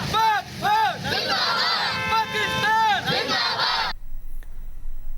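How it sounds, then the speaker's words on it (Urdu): A street rally crowd chants slogans in unison, loud rhythmic shouted phrases with repeated swells and a few horns, cutting off abruptly near the end. "پاک فوج زندہ باد، پاکستان زندہ باد کے نعرے لگائے گئے۔"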